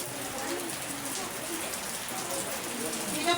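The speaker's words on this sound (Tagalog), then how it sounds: "Ayan, ulan." Steady, dense rain falls close by in a continuous hiss with scattered drops hitting surfaces, lasting without a break.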